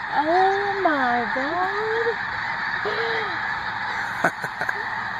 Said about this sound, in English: Look at those geese. You hear them yelling